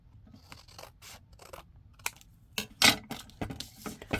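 Scissors slicing across paper while making library pockets for a junk journal, a series of short crisp snips and rustles, close and fairly quiet with no talking.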